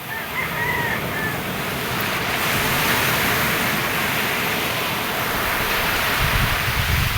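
Heavy waves crash and rumble continuously nearby, a thick churning roar with some wind buffeting the microphone and no voices.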